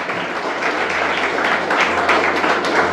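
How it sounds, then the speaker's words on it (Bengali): An audience claps at a poetry recitation gathering, a dense, steady round of applause lasting throughout. "বুদ্ধদেব তার জন্য একটি জোর করে হাততালি।"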